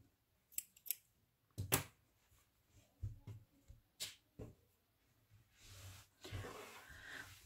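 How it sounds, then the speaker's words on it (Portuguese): Scissors snip through crochet wool yarn at the end of a double-crochet cardigan row, giving several sharp close cuts in quick succession with soft handling rustles between them. "vou cortar minha linha"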